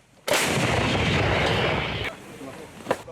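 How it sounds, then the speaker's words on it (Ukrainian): A Ukrainian frontline howitzer fires one heavy, close boom, followed by a long rolling rumble that cuts off into quieter surroundings. "орієнтуємо гармату в той напрямок, де ціль, і починаємо стрільбу"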